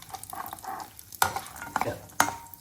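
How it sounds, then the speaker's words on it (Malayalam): Cashews and roasted chana dal are stirred in hot ghee, with soft sizzling under several sharp scraping stir strokes that come at irregular moments against the pan. "നെയ്യ് ചൂടായി കഴിയുമ്പോൾ അതിലേക്ക് 1/4 കപ്പ് പൊട്ടുകടല ഇട്ട് വറുത്തെടുക്കുക"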